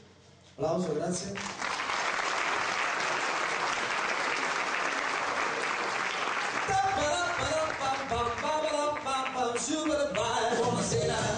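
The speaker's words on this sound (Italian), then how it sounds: "Applauso, grazie." Audience applause at an evening outdoor music performance in Marsciano, a loud sustained clapping crowd that gives way to a singer's voice and music near the end.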